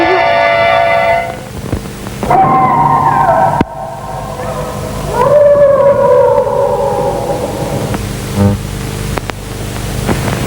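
A dog howls at night in a classic Pakistani film scene, long wavering tones rising and falling over several seconds, loud over a dense hiss of background noise and music.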